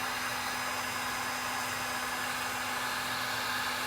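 A heat gun blows a steady, loud, even hiss with a constant whine while it heats and strips old paint. The airflow stays unchanged throughout, close by, with no talking.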